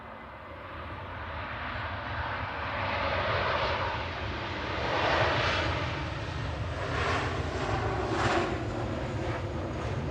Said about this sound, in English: This is a 737 MAX 8-200. About 18 months old, operating flight 558.